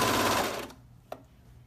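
A serger overlocks the front seams of knit joggers near the pockets, a dense whirring burst that runs under a second and then cuts out, followed by a single faint click in the quiet.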